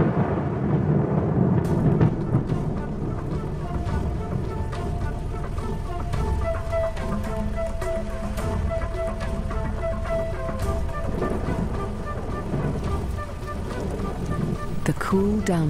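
Thunder and heavy rain pour down over an open African plain, a steady broadband downpour with low rumbling swells throughout, loud and continuous with no voices.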